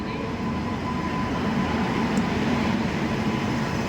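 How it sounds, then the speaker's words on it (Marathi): A train bound for Mumbai pulling into a railway station, a steady low rumble of wheels and carriages with a faint tonal hum throughout, moderately loud and continuous. "आमची ट्रेन आलेली आहे."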